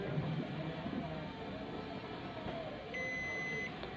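A multimeter's continuity buzzer gives a single steady electronic beep lasting under a second while parts of a Sanyo CRT TV with a vertical line fault are tested, set against a low hum of background noise.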